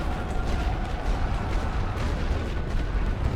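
Rumbling artillery fire from the World War I strategy game Great War Western Front, a steady low roar of distant guns with scattered dull thuds running continuously throughout, no voices.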